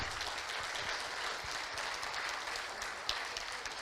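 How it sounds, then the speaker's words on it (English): An audience at a live show gives a sustained round of applause, an even, dense roar of many clapping hands heard from within the room, with an occasional sharper clap poking through. "Give them a round of applause"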